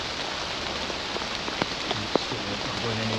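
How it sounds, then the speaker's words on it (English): Heavy rain pours steadily on a walk along Oldham's disused Delph Donkey railway, a dense even hiss with a few louder drips and patters landing close by. "The rain now is absolutely, really heavy"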